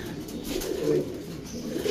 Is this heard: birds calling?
yes